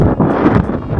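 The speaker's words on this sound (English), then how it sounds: "Super windy now." Strong wind on the Minami Aso caldera trail in Japan buffets the microphone in a loud, rough rush that gusts and eases over a brief moment.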